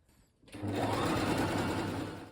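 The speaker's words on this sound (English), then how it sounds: "once you pin all the way, we can again start sewing." A sewing machine stitches kimono jacket fabric for a haori, starting after a brief quiet moment and running in one steady, close, whirring burst of about two seconds.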